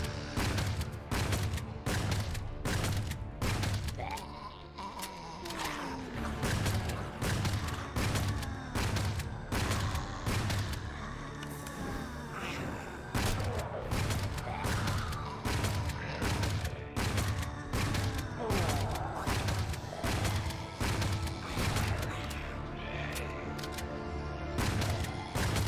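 Rapid gunfire from the video game LifeAfter cracks in dense, repeated bursts, loud and close, with short pauses between volleys and no voices on top.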